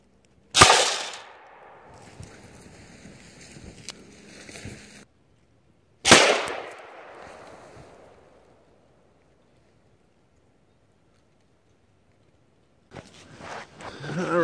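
PIAT anti-tank launcher fired from the shoulder outdoors: two loud, sharp blasts several seconds apart, each with a ringing tail fading out, plus quieter handling noise between and after.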